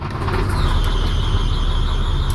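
A dump truck's engine runs just after a starter replacement, a loud, steady low rumble with a thin squeal riding above it and no talk.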